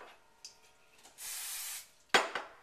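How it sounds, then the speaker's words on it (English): A short hissing burst of olive oil cooking spray into a ramekin lasts under a second, framed by a few light clinks of the small dish. "spray it down with some olive oil cooking spray"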